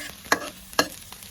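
Dried chilies and pounded shallots frying gently over low heat in a pan for stir-fried pork ribs with basil, a soft steady sizzle broken by two sharp stirring scrapes and a fainter third one near by.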